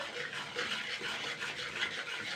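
Continuous scraping and stirring of spices in a pan over low heat while making tomato pickle, a steady close rasping texture without pauses.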